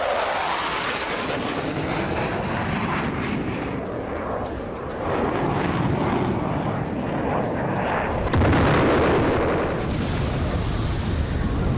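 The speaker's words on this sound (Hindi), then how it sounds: "यूक्रेन पर रूस लड़ाकू विमान से बम बरसा रहा है।" Fighter jets dropping bombs in the Russia-Ukraine war, a loud, dense roar of aircraft noise mixed with rolling explosions and rumbling impacts, sustained with a sharper burst near the end.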